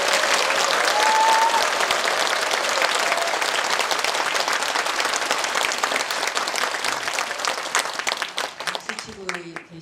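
A concert crowd at a charity talk-concert applauds loudly and steadily, the clapping thinning toward the end as a voice begins speaking.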